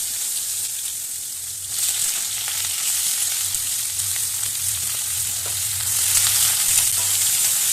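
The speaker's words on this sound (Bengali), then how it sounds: "সর্ষের তেলটা গরম হয়ে গেছে, এবার প্রথমে পটলগুলো ভেজে নেব" Pointed gourd frying in hot mustard oil gives a steady, close sizzle with a faint crackle. It grows louder after about two seconds and again near the end, and no one speaks.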